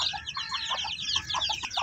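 Young 21-day-old chicks peep and cluck in quick, high chirps that overlap in a busy, close chorus, with no voices present.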